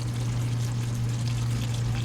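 Water from a rinsed spice bowl is poured into a cooking pan of spice paste with ginger, green chilli and tomato paste, making a steady, continuous splashing pour over a constant low hum for about two seconds, with no talking.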